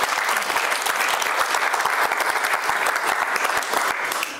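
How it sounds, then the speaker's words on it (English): An audience at a magic show gives a loud, steady burst of applause, with dense clapping close by that continues without a break and fades slightly at the end. "Give Chris a big round of applause."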